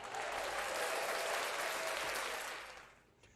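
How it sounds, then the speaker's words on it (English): A round of applause from an audience, continuous dense clapping at moderate volume that swells slightly and then fades out near the end. "Let's give them one more round of applause"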